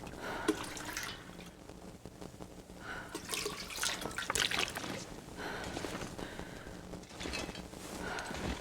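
Water being collected in The Long Dark survival game, on Interloper difficulty, as a steady splashy pouring and trickling wash that lasts about nine seconds and swells in places, with no talking.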